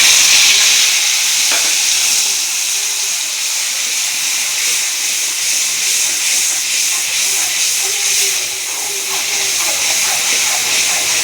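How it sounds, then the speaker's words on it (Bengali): A spice paste for drumstick (sajna) gravy sizzles loudly while frying in a pan, a continuous bright hiss close by, with faint stirring sounds underneath. "মশলাটা ভালো করে কষিয়ে নিতে হবে।"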